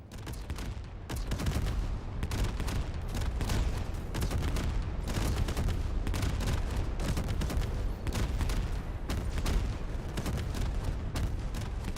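Dense ground fire pours at a ship during a space game server stress test, a continuous roar of overlapping gunfire, booms and missile blasts with barely a pause for about twelve seconds.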